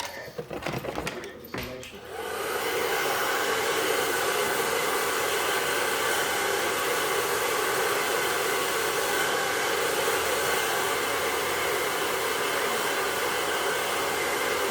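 A hair dryer is switched on after a few seconds of rustling and handling noise, then blows steadily and loudly as a constant close whoosh for the rest of the time.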